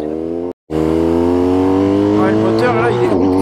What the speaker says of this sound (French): le moteur là, il est onctueux qu'il en peut plus